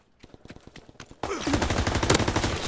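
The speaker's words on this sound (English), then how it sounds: "It sounded like a pistol." Rapid gunshots ring out in Call of Duty: WWII online play, with a run of quick, evenly spaced shots followed by a louder, denser burst of gunfire and battle noise.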